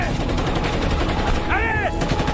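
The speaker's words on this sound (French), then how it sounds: "Ils nous tirent dessus à la mitrailleuse." Machine gun fire rattles continuously in a Mali desert firefight, a loud, dense stream of rapid shots, with a voice briefly calling out over it.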